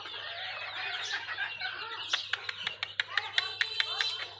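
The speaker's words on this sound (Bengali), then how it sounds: "এই দুটা মোরগ, এই দুটা মোরগ আর মুরগি" Native country chickens and roosters cluck close by in a farmyard, a run of quick sharp clucks building toward the end, with a low steady hum underneath.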